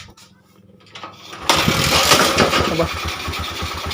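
A motorcycle engine is started with a key: after a quiet moment a short click and crank, then the engine catches at once and settles into a loud, steady running idle close by, with a brief voice early on.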